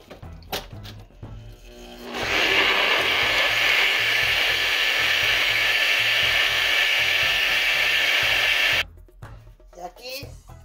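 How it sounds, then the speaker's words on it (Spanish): A kitchen blender liquefying ingredients for a Guatemalan recipe, a steady loud whirring roar running about six seconds, with soft talk and kitchen clatter before and after it. "Y procedemos a licuar."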